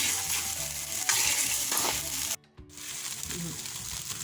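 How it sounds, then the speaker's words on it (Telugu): Sambar spice ingredients dry-roast and sizzle in a pan with salt as a spatula stirs them, a loud continuous frying crackle with a brief drop to near silence midway. "నీరు పోయేలాగా వేపుకోవాలి"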